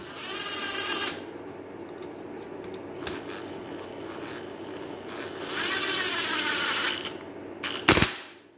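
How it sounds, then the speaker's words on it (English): Ratcheting torque wrench snugging down the bolts during a leaf blower engine rebuild, a mechanical clicking and rasping heard up close, alone with no talk, ending in a sharp metallic clack. "With my very accurate torque wrench."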